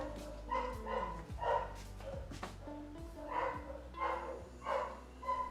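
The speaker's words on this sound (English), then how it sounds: "The dogs are going a bit mad." Several dogs bark in short, agitated bursts and yips at a house as another dog passes along the road, the barking recurring steadily and fairly close, with no speech over it.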